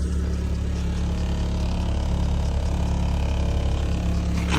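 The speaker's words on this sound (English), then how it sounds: "Just give it a little bit of a rev. Obviously it's on cold start at the minute." An Audi TT with an upgraded stainless steel downpipe and decat, idling on a cold start, a loud steady deep engine drone with a low throaty rumble that swells slightly as it is given a light rev.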